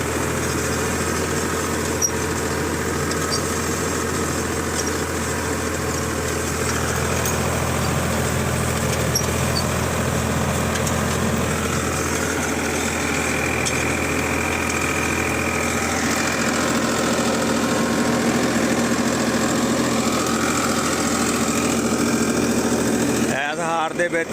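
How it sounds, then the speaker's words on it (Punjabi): Tractor engines run steadily in a wheat field, a continuous loud diesel drone with rough knocking throb, while someone talks over the noise. "ਸੱਤ ਟਰੈਕਟਰ ਚੱਲਦੇ ਆ"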